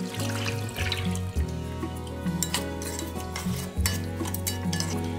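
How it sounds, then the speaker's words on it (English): Coconut milk with crushed lemongrass, ginger and salt being stirred together in a pot, a steady wet swishing and scraping with light clinks, close and fairly loud with no talking. "we add the coconut milk and we mix it all together"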